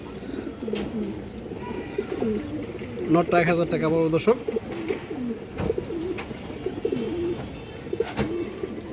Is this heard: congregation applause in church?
no